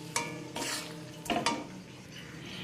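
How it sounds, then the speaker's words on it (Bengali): Kalmi greens with a little sugar being stirred in a pan: a few close scraping strokes and soft shuffling bursts, with a faint sizzle underneath and no talking. "একটু চিনি অল্প দিয়ে দিলাম, দিয়ে সব কিছুকে আবারও মিশিয়ে নিচ্ছি"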